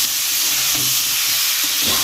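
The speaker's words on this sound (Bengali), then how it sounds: "আবারও সমস্তটাই ভালো করে কিন্তু কষিয়ে নিচ্ছে।" Broccoli, cauliflower and egg curry with potatoes being sautéed and stirred in a pan, a steady loud hiss of frying with soft scraping strokes, close up, no voices.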